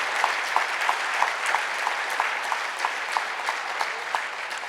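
A church congregation claps loudly and rhythmically in unison, sharp regular beats roughly three per second over a dense bed of scattered hand claps, with no voices.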